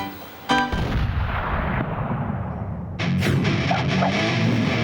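A gas-filled balloon holding an acetylene and oxygen mixture detonates in a sharp, loud bang at about half a second, followed by a sustained roar and a second burst of crackling noise.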